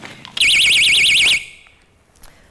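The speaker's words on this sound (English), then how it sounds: "They put it around their camps as an alarm for bears." A polar bear tripwire alarm used around Arctic camps goes off with a loud, warbling electronic siren lasting about a second, then cuts out, leaving a faint fading ring and quiet background.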